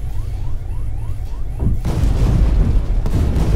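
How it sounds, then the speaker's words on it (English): A Vickers MK7 main battle tank's cannon fires in a video game, a single deep, loud boom halfway through that gives way to a sustained heavy rumble. "Again, you see me, I'm shooting one tank"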